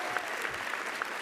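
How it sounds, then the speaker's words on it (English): Sustained applause from an audience congratulating award recipients at a Black Celebratory Cornerstone Awards graduation ceremony, steady dense clapping throughout with no talking. "please join me in another round of applause congratulating our recipients"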